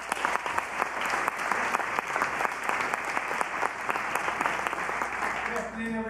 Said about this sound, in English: Please, a warm round of applause to welcome Mr.